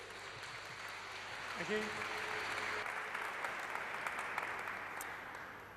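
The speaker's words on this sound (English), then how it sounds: "Big round of applause, please." Audience applause at an agile business conference talk, a steady, fairly quiet wash of clapping throughout, with someone briefly speaking over it early on.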